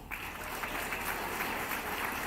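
Applause for the runner-up team at an international moot court competition, a steady hiss of many hands clapping at moderate distance, continuous and fairly faint throughout.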